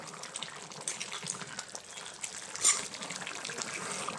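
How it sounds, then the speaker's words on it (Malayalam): Pumpkin theeyal curry stirred in a pot as it boils: a faint, steady liquid sloshing and bubbling with one brief louder splash partway through, and no speech. "സമയത്ത് നമുക്ക് ഒന്നുകൂടെ ഒന്ന് നല്ലപോലെ ഒന്ന് ഇളക്കി കൊടുക്കാം."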